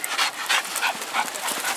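A dog at an Easter costume contest pants in quick, close, rhythmic breaths, with faint whimpery yips mixed in over a short stretch.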